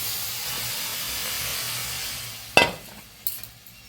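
Water poured into a pan of frying duck eggs with potato and cauliflower curry: a steady sizzle that fades, then two sharp splashing hisses as liquid hits the hot pan.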